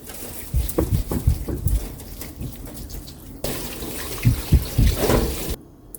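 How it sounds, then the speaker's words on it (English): Meat being washed by hand under a running tap in a kitchen, with steady splashing water, thuds and handling noises, a brief pause, then louder flowing water before it cuts off. "First, make sure to wash the meat thoroughly."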